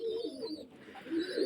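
Pigeons of imported bloodlines, KTM, Omani and 128 Teddy Baby types, coo softly and steadily from close by, with low murmuring calls and a faint chirp or two, no voices.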